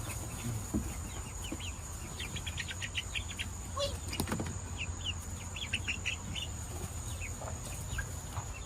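Young chicks in a new custom-made coop: clusters of soft high peeping and chirps over a steady background hum, close but fairly faint, with no talking.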